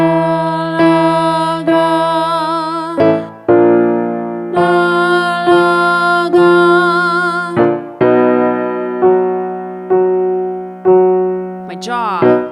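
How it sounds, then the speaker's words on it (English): A singer holds one sustained pitch while shifting the syllable from na to la to ga, repeated in short phrases with even vowels, clear and close with no accompaniment. "you're going to morph from the sound na to the sound la to the sound ga"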